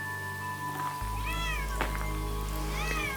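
Pet cats meow indoors, two or three drawn-out, rising meows at close range over a steady low background hum.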